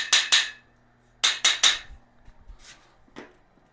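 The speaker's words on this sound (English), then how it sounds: "you take the hammer and just make sure those are seated all the way" A hammer taps metal storage shelf parts to seat them, striking in two quick bursts of sharp ringing knocks, then a few softer, duller taps; no one speaks.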